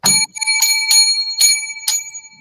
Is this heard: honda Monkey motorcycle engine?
no